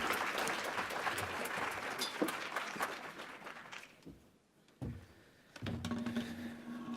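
Meeting participants applaud themselves at the close of a patient-focused drug development meeting, a broad wash of clapping that runs steadily, dips briefly near the end, then resumes alongside a faint steady tone.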